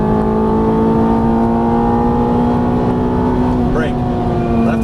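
A Ferrari F430 on a race track gives a loud, steady engine drone with a strong held tone, then a brief sweep of revs near the end, close and dominant throughout.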